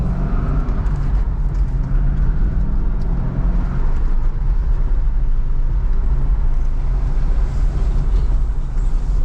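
A 2013 Corvette C6 with manual transmission rolls along a bumpy side street near a dealership, a steady loud cabin rumble of road and engine noise with no talking.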